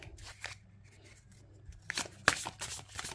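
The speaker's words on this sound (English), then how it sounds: "what I'm going to do now is shuffle the deck" A deck of oracle cards being shuffled by hand, with soft papery riffles and slides that build into sharper, louder snaps and flutters in the second half, recorded close up with no one talking.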